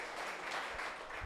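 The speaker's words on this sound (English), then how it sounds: "Give yourselves a round of applause." Sustained audience applause at the close of a weekend event, a dense, even wash of many hands clapping with no pauses across the short stretch.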